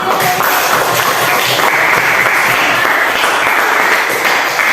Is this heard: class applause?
yes